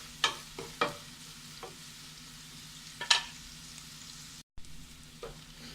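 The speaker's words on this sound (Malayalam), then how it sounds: "ഇതിൻ്റെ പച്ചമണമൊക്കെ മാറി ഒരു ലൈറ്റ് ബ്രൗൺ ആവണവരെ നമുക്ക് വഴറ്റി കൊടുക്കാം." Ingredients for a Kerala-style beef fry are sautéed in a pan, with scattered spatula scrapes and stirring clatter over a soft background sizzle, then a brief dropout.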